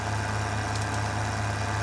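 Tractor engine idling in the video game Farming Simulator 2013, a steady low drone with a constant hum that holds unchanged throughout, close and moderately loud, with no voices.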